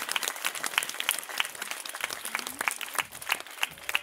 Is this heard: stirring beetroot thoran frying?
no